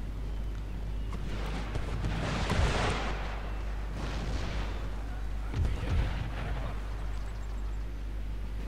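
Heavy cannon blasts in the video game Empire: Total War boom three times at irregular intervals, each a broad rumbling burst over continuous low background noise.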